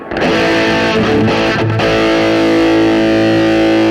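A loud, sustained distorted electric guitar chord through a Valeton GP-100 distortion preset rings out after a few quick strums, thick and buzzing with a fuzzy effect.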